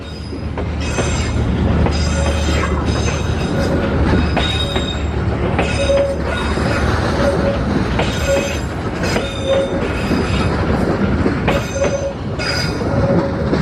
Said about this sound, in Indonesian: yang saya suka ya, kereta api Serayu.